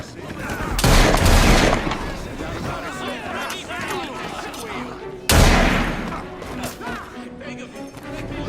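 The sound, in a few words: gunfire in video game Assassin's Creed Syndicate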